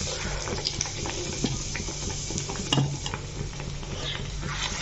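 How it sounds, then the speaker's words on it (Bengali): Bottle gourd fritters deep frying one by one in hot oil, giving a steady close sizzle with light stirring scrapes throughout and no talking. "তো আমি এইভাবে কিন্তু লাউর বড়া একটা একটা ভেজে নিতে থাকবো আমি"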